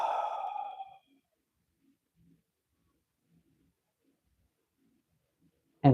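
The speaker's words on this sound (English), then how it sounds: "Take a second, take a deep breath, inhale," A single deep exhale during a guided breathing exercise, a long soft breath lasting about a second, heard alone and close, followed by near silence with faint small sounds.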